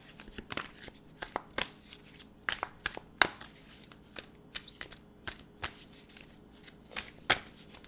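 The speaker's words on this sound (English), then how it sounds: "We'll pull some cards." A deck of tarot cards is shuffled by hand in a quiet room: close, repeated riffling and slapping bursts in an irregular rhythm with brief pauses between them, and no voices.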